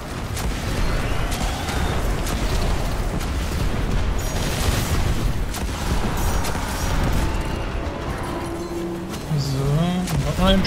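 Gunfire in Destiny 2 on PS4, with busy mechanical in-game effects, booms and layered shots running at steady loudness for the whole stretch, mixed with other game sounds.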